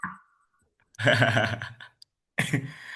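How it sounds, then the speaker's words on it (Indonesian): Person coughing during an online class call, two separate harsh bursts close to the microphone with a short quiet gap between them. "kakak lagi agak sedikit batuk nih"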